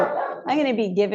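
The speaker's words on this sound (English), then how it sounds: "Sorry about my dog. There's people working outside and she's protecting the house," A dog indoors barking at people working outside the house, two close, loud barks in quick succession, the second trailing into a yelping whine.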